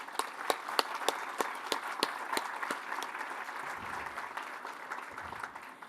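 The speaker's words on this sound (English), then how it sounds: "we owe ourselves a huge round of applause" A crowd at the groundbreaking ceremony for 100 Hooper applauds, a steady bed of clapping with several sharp, close individual claps standing out early on, then fading slightly.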